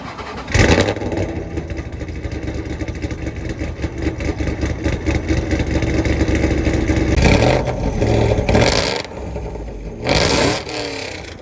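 A 1000+ horsepower Ford Mustang with a Widow Maker UBB conversion engine runs loud and close, rough and steady, with revs rising and swelling near the end before dropping off and surging once more.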